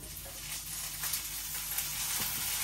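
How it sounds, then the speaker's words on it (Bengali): Prawns frying with chopped onion in a pan give a steady, fairly quiet hiss and sizzle with faint scraping, and no voices. "চিংড়ি মাছটা একটু ভাজা নিতেছি"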